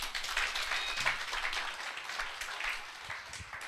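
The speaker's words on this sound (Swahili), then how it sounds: "Wapigieni makofi." A church congregation applauds, a steady wash of clapping from many hands that holds at an even level throughout, fairly close and dense with no talk over it.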